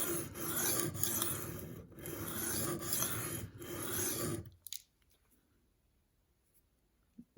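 Repeated abrasive strokes of a knife blade drawn across a stone on an inexpensive guided sharpening system, a rapid rasping rhythm for about four seconds, then stopping, followed by faint small handling clicks.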